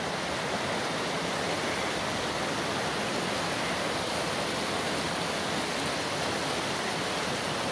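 Rajrappa waterfall pours and roars in a steady, unbroken rush of water, a constant broadband hiss with no voices or other sounds above it.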